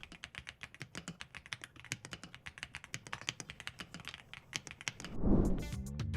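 Typing on an EA75 Max 75% mechanical keyboard, a close run of crisp, fairly fast keystrokes in a quiet room, ending with a deeper thock or clack at the very end.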